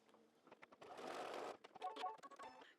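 Home sewing machine stitching a seam on a small quilted mug rug, a faint quick mechanical whir in a short burst, framed by light clicks and handling sounds.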